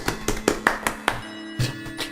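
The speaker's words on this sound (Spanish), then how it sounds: "Aplausos." Scattered applause from an audience at the end of a talk on spiritism in nineteenth-century Mexico, with a handful of separate claps spaced unevenly over about two seconds, fairly close and moderately loud.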